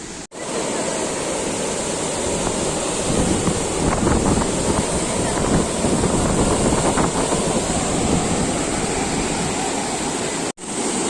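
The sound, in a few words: water falling over the spillway of Chimmony dam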